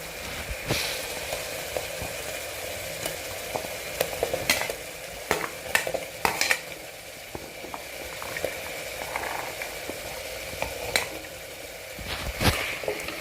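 Pumpkin and peas sizzle steadily in a hot pan while a utensil scrapes and clacks against the metal in irregular strokes, with no talking.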